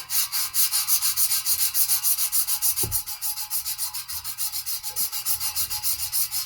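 Sandpaper scrubbing the back of a muffler on a 2012 Ford F-150, fast rhythmic back-and-forth strokes, loud and close, with a brief knock partway through.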